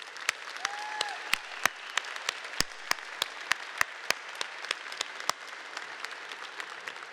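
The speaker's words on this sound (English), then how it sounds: "Please join me in giving them one final round of applause." An audience at an awards dinner applauds, a steady patter of many hands with a few sharper nearby claps standing out, fairly faint throughout and without speech.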